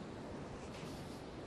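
Steady ocean surf at a beach entrance where coastal lakes run out to the sea at low tide, a continuous broadband wash of breaking waves with some wind, no voices.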